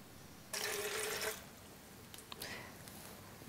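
Water poured into a blender jar for an almond milk and blueberry smoothie, a steady splashing pour of about a second, followed by a few light clinks and small knocks.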